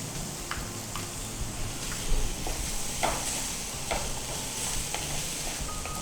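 Chopped capsicum sizzles steadily in a hot pan as it is stir-fried for veg kadai, a continuous frying hiss broken by occasional scraping stirs, close and fairly loud with no voices.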